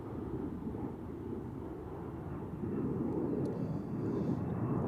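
A fixed-wing airliner lands on runway 14 at Zurich Airport, a deep, steady engine roar heard from nearby that swells louder midway through, with no talk.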